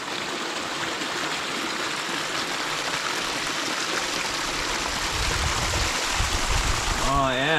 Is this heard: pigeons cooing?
no